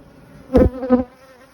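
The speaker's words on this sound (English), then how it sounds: "This time of year we're seeing wasp attack, and if you look on the surface here, you can see wasps." Wasps buzzing around a beehive in spring, two short close buzzes a moment apart as an insect passes near the hive surface, each loud and brief over a quiet background.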